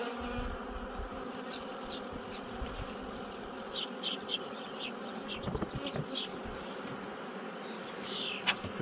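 Honeybees at an opened hive during a honey frame check in late May, a dense continuous buzzing swarm close around, with individual bees passing near, steady throughout with no talk.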